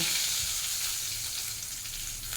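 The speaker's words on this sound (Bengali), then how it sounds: "দুটো সাইডই আমি উল্টে পাল্টে ভালো করে ভেজে নিয়েছি।" Pomfret fish frying in hot oil after being turned on both sides, a steady close, dense sizzle that holds throughout with no talk.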